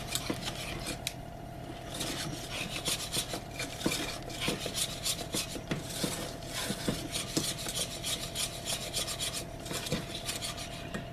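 A spoon or whisk scrapes and rubs steadily through thick brownie batter as vanilla is stirred in, a close, continuous rasping with repeated light clinks against the bowl and no talking.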